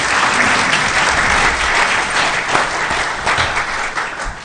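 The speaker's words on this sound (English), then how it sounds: "Let's give the entire panel another round of applause." An audience gives a panel on environmental justice a sustained round of applause, dense clapping that fills the room steadily for several seconds before tapering slightly.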